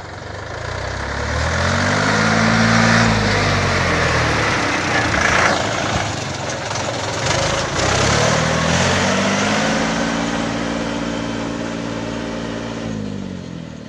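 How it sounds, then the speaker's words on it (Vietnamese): Yanmar F475D tractor engine revving up and down at high speed, a loud, steady mechanical drone with rising and falling pitch sweeps, close by and heard on its own without talk. "máy chạy rất là nhanh"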